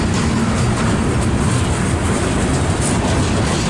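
A Union Pacific freight train with boxcars rolls past close by, a loud continuous rumble and clatter of wheels on rails.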